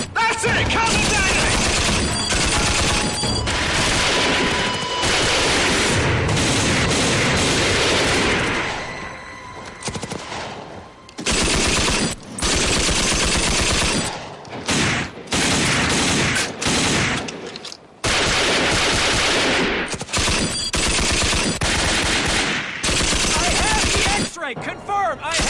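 Bursts of automatic gunfire and rapid shots in a tense military action scene from a TV drama, loud and dense, broken by short pauses, with shouted voices mixed in.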